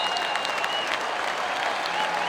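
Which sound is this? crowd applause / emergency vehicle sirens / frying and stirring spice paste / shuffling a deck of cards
crowd applause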